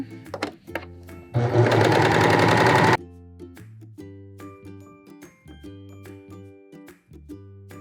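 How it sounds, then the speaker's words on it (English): A serger overlock machine stitches along fabric edges for a dress in one fast, loud mechanical whir lasting about a second and a half, between quieter clicks, taps and handling of the fabric. "So I'm gonna go over to the serger and serge these edges nice and clean."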